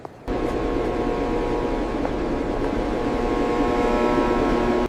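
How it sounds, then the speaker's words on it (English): A loud, steady mechanical rumble with a droning hum starts abruptly and holds at constant volume, like a train pulling in close by. "I hear something. Is that the train? It's so loud."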